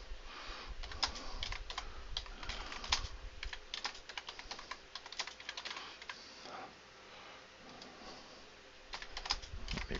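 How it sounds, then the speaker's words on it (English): Steady computer-keyboard typing with dense, irregular key clicks running throughout, close and fairly quiet, with no voices. "Let me finish typing this."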